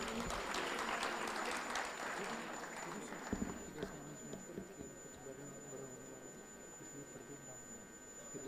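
Audience applause in an auditorium during a women's leadership panel, a faint, sustained wash of clapping that swells early and then thins, with a steady electronic tone running underneath.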